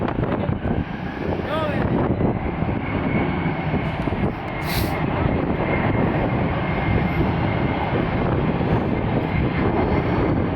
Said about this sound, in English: I think it's a Gulfstream G600, so yeah, they do tend to be a little loud.